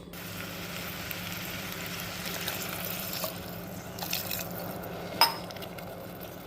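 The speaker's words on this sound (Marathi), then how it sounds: "आता याच्यात मी पाणी टाकते" Water pours steadily into a pot of chopped bottle gourd being readied for pressure cooking for a prawn curry, a continuous close splashing rush with one brief sharp knock near the end.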